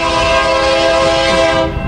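A westbound BNSF freight train led by a Dash 9 locomotive sounds its horn, a loud, close, sustained multi-tone blast that holds steady for under two seconds.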